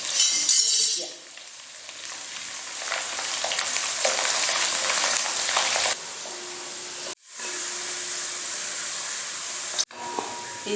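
Ginger and garlic frying in sesame oil with mustard seeds for village-style tuna pickle, a steady close sizzle stirred with a spoon, with the sizzle dipping in level midway and two brief silent breaks.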